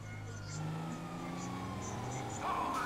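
A police car siren wails in the video game GTA V, a wavering tone over a low engine hum, with a brief louder swell near the end.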